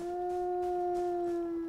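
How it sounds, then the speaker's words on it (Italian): A wolf in Enshrouded holds one long, steady, tonal howl, clear and sustained, with faint background thumps and game ambience beneath. "Poverino, se la stavo godendo, era un ululato bello sì"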